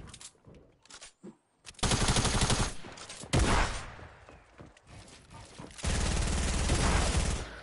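Shotgun blasts boom in Fortnite, with a few sharp single shots early on, then longer loud bursts of gunfire and quieter footsteps between them.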